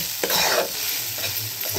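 A spoon scrapes and stirs spice powders into a sizzling vegetable mixture in a pan, a few brisk strokes over a steady frying hiss, close and clear with no talking.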